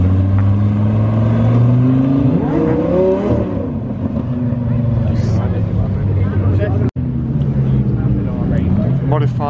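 Racing green Audi R8 V10 engine revving hard at a car meet, a loud rising roar with gear-change dips, over the murmur of a crowd.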